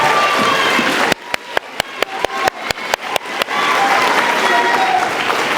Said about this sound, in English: Please join me and give every one of these amazing, incredible staff members, administrators, leaders a round of applause